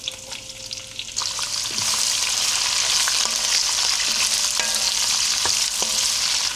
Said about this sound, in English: I'm going to brown the onion